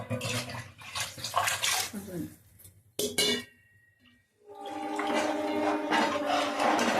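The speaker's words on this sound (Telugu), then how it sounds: "ఒక చెంబుకి రెండు చెంబులు నీళ్ళు పోస్తున్నానండి" Water poured from a vessel into a pot of beef biryani with mutton, two close splashing gushes separated by a brief quiet gap, the second pour longer and steadier, with faint clinks.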